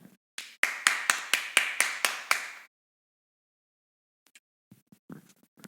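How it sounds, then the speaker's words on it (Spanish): A church congregation claps for the pastor's granddaughter, a short burst of roughly ten quick, close claps that stops abruptly, followed by silence and a few faint knocks. "Y voy a terminar dándole un aplauso a mi nieta."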